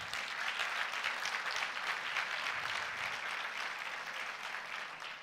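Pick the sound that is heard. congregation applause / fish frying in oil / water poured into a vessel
congregation applause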